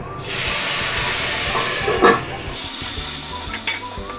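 Onion, garlic and ginger paste frying in a kadai for egg korma, a steady broadband sizzle with stirring scrapes throughout and a brief louder burst midway; no talking.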